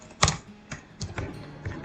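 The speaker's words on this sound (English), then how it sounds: "Why I am typing 2021?" Typing on a computer keyboard, a handful of separate key clicks in an irregular rhythm, close and fairly crisp, with a quiet background and no talk.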